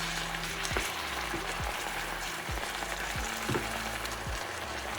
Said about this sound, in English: you cook it for a few minutes until the meat is cooked to the style you want